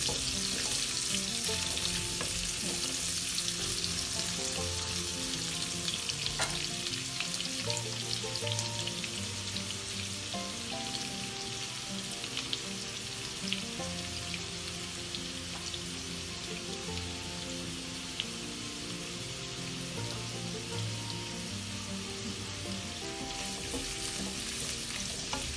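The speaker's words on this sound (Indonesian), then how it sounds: "Ini kita masukkan wortel, karena wortel lebih keras, jadi kita masak lebih dahulu. Jadi kita dengan cara kita tumis." Carrots sauté in a pan for chicken meatball soup, a steady close sizzle and frying crackle running continuously with occasional stirring clinks, no talk.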